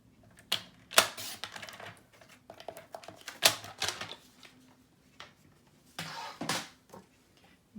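Paper pieces for a Halloween mini album being cut, heard as irregular crisp snips and clicks in short bursts with pauses between, close and quiet, with no speech.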